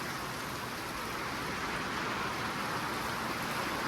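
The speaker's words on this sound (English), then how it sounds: "The rain's coming in kind of sideways a little bit" Steady wind-driven rain blowing sideways outdoors near a goat pasture, a continuous even hiss of falling water with no breaks or voices.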